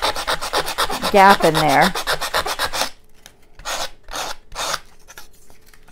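A file stroked over a wooden paint stick to remove splinters: quick, rhythmic rasping strokes, close and loud, which pause and then resume as a few separate scrapes, with someone speaking briefly partway through.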